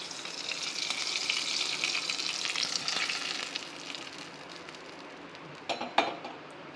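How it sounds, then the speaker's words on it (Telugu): A fried tempering sizzles steadily as it goes into tamarind juice, a broad hiss that fades after a few seconds, followed by a couple of sharp metal clinks of a utensil. "ఇప్పుడు ఈ చింతపండు రసంలో పోపును వేసుకుందాం."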